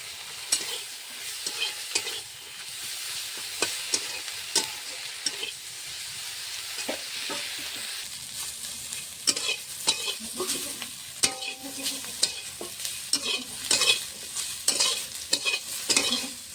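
Prawn shells, pumpkin flowers, coriander leaves, garlic and nigella seeds frying together in a pan, a continuous close sizzle with repeated scraping stirs of a spatula and no talk.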